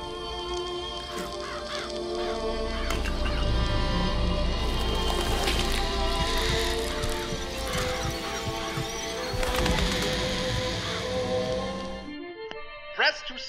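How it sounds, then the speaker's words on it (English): Summoned murderous crows from a vigor in BioShock Infinite: a dense, loud, continuous swirl of cawing and fluttering layered over a throbbing, heartbeat-like pulse and hum, cutting off abruptly near the end. "Press to summon murderous crows"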